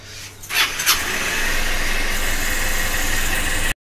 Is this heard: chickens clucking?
no